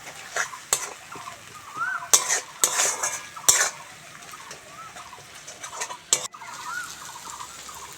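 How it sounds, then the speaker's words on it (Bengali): Spices sauté in a pan for a tilapia fish curry, stirred with a metal spoon that scrapes and clanks against the pan in irregular bursts over a soft, steady sizzle. "এইবার আমি ভালো করে মশলাগুলো কষবো যত ভালো করে কষবো তত ফিস কারিটা খেতে ভালো লাগবে"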